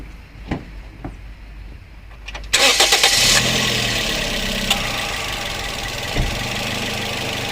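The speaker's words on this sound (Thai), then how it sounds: "เดี๋ยวฟังเสียงเครื่องยนต์ครับ" A few quiet clicks, then a 2013 Toyota Yaris engine cranks and catches with a loud roar before settling into a steady idle.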